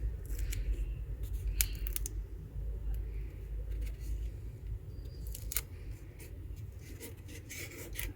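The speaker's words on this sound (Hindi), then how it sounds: "एक्स्ट्रा जो है टेप उसको हम कट कर लेते हैं।" Scissors trim leftover tape close by in a few quick, crisp snips over a steady low background hum, as a phone keypad is made at home.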